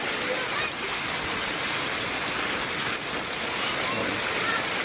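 Heavy rain pours down in a dense, constant roar, loud and enveloping with no breaks, as a downpour begins and water starts to build toward flooding.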